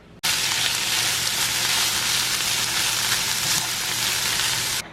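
Small corn tortillas heating in a pan, a loud close sizzle that starts abruptly and holds steady, then cuts off at the end, with no talking.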